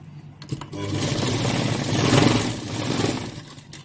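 A sewing machine stitches a seam on a mirror-work blouse with velvet lehenga fabric, its motor giving a steady, close whirring drone that swells slightly mid-run across the short stretch.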